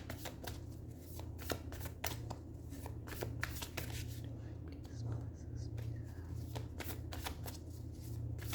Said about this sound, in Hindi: मैं थोड़ा सा शफल करके 3 कार्ड्स निकालूंगी।